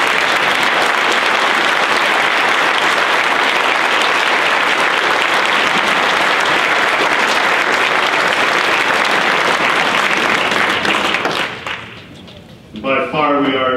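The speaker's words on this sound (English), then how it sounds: "So let's give them a big round of applause." An audience at a Minnesota Republican gubernatorial candidates forum breaks into loud, sustained applause that fills the room for about eleven seconds, then fades out and gives way to a voice.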